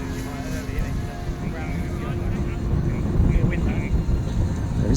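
An RC turbine glider flies at the Weston Park Model Air Show 2022, its steady high turbine whine carrying over low wind rumble and growing slightly louder toward the end.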